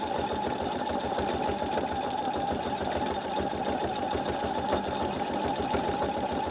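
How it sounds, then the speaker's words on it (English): A sewing machine stitches free-machine embroidery applique in a fast, even needle rhythm, running continuously at moderate volume with no pauses. "I'm going to stitch a little bit further inside just to even it up."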